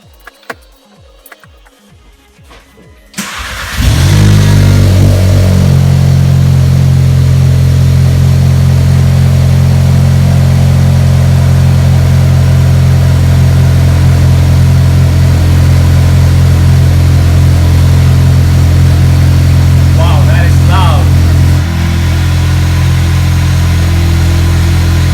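A VW Golf MK7 TSI with the muffler removed starts up, then idles loudly with a deep, raspy, droning exhaust tone that holds steady.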